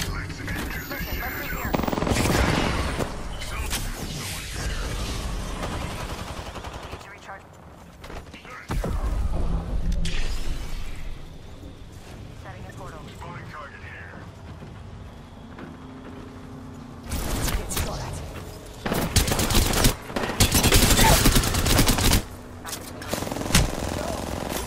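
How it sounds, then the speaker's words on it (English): Charge rifle fire in Apex Legends, heard as several loud bursts of gunfire scattered across the fight, with quieter stretches between them and game noise throughout. "I'm getting dinked by a charge rifle."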